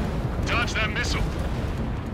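Missile explosions in the air-combat video game Ace Combat 7, heard as a cluster of rumbling bursts over a steady jet-engine roar, with radio chatter nearby.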